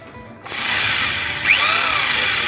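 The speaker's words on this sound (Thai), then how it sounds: "ก่อนที่จะเอาไปปลูกนะครับเราก็เจาะตรงข้าง เจาะด้านล่างนะครับ เพื่อจะเป็นรูระบายนะครับ" Power drill boring drainage holes through the side and bottom of a coconut shell hanging pot, a steady close whirring grind that starts abruptly and continues throughout, with a rising scrape as the bit bites in.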